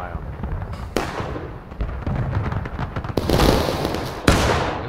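Musket volleys crack and boom in a War of Rights battle, with sharp loud reports and rolling echoes over continuous battlefield din, and voices shouting beneath the gunfire.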